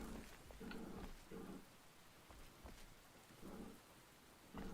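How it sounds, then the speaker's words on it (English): Rain falling indoors in a video game, a soft steady hiss of rainfall with low rumbling swells recurring every second or so, faint and with no talk. "It's raining inside now."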